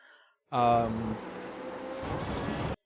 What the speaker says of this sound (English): That's me downshifting to make the car rotate.